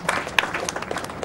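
Scattered clapping from an audience at a live speedrun event, a brief patter of hand claps of uneven rhythm, moderately loud and heard alone.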